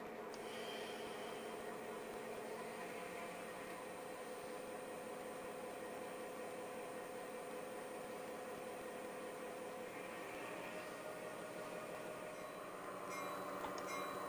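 A model railway train arrives at a passing siding near a freight house and slows to a stop, a steady faint rolling rumble with light wheel squeal throughout, louder rattling toward the end.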